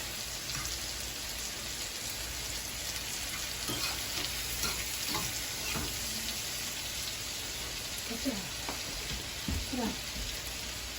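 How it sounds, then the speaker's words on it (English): Shrimp simmering with pineapples in a pan makes a constant close sizzling hiss, with light clinks and stirring noises scattered through it and a faint steady whine above. "I got my shrimp simmering down here with some pineapples"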